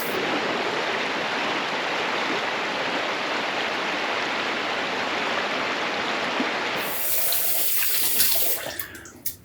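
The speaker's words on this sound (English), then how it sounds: "let's rinse off real quick." Tap water runs steadily and close by for a post-shave rinse, a constant broadband rush that stops near the end, followed by a few small splashes and drips.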